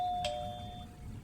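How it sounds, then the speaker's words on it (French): A cartoon doorbell-style bell gives a single bright ding with a clear ringing tone that sustains and slowly fades, fairly soft, with no talking. "Tout ce que je sais, c'est que Perry fait le bruit d'une cloche chaque fois qu'on appuie sur sa tête."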